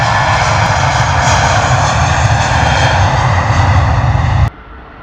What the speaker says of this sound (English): A320 operated by Wizz Air